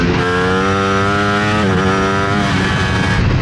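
A 2025 Ducati Panigale V4S engine revs hard at full throttle, loud and close, its pitch climbing steadily with a brief dip and rise as it pulls through a gear.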